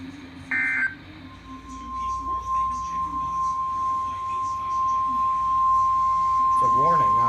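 A weather radio's severe-weather warning alarm, issued by the National Weather Service, sounds as a brief burst of electronic data tones, then a steady single-pitched alert tone holding for about six seconds, with faint voices and background noise underneath.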